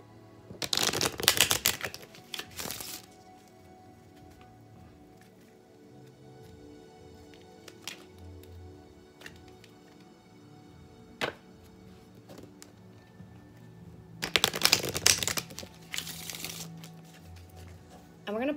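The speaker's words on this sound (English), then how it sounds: "Let's shuffle some old cards and then put them together." Rider Waite tarot cards are shuffled in two loud bursts of riffling and flicking, one near the start and one near the end, with quieter handling and faint rustles between.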